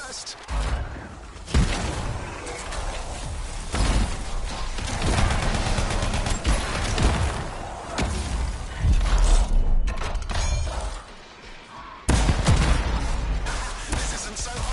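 Loud gunfire and explosive blasts from the action video game Anthem fill most of the span in dense, overlapping bursts, with game voices talking over the shooting and a brief lull near the end before firing resumes.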